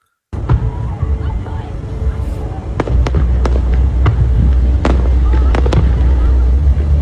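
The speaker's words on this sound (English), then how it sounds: "Wait a minute, those are just fireworks." Fireworks crackle and boom in a continuous loud display, with sharp individual bangs standing out over a dense, steady roar of bursts.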